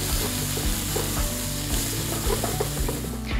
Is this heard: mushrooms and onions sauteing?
yes